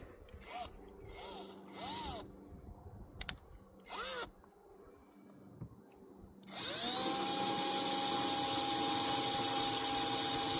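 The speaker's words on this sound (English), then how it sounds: "now to drill some pilot holes for screws." A power drill bores pilot holes for screws in a workshop build, quiet handling clicks and knocks first, then the drill starts around the midpoint and runs loud and steady to the end.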